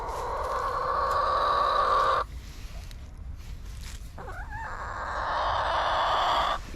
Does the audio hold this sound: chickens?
yes